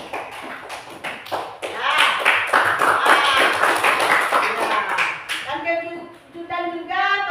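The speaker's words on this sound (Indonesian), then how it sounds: "sekarang kita beri tepuk tangan dulu kelompok 1 yang telah menampilkan tadi ya." Classroom audience applauding a student group after their presentation, a burst of claps and taps rising over about five seconds then tapering, with children's voices chattering near the end.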